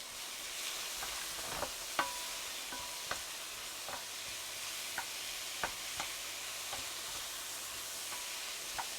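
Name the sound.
stir-fry sizzling in a pan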